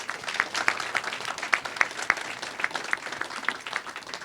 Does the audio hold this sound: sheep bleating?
no